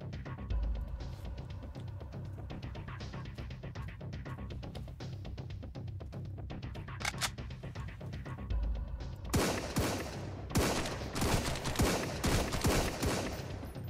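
Rapid submachine gun bursts crackle in the Sunkenland video game, a dense wash of shots that grows sharper and louder toward the end over a steady low game rumble.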